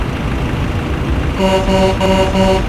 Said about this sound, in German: Gibt's auch Hupe?